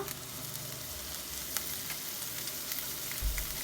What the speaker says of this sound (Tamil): நம்ம கட் பண்ணி வச்சுக்கிற அந்த ஆனியன்லாம் அதில் போட்டு நல்லா ஃப்ரை பண்ணிக்கணும்